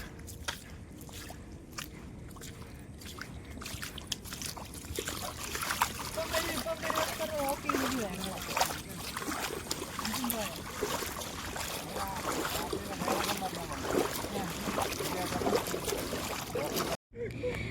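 A wooden rowboat is paddled with oars through floodwater because its engine broke, with steady watery swishes and small splashes close by and voices talking over them.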